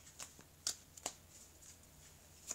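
Oracle cards handled and shuffled for a Scorpio tarot reading, a few faint, sparse card snaps and flicks spaced irregularly, close but quiet, with no talking.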